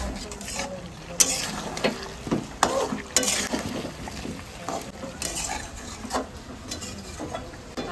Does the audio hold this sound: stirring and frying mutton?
yes